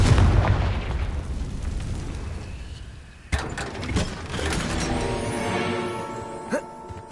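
Confringo spell blasts in the video game Hogwarts Legacy, a loud booming explosion that rumbles away, then a sharp second burst followed by crackling debris and smaller pops, with no talking.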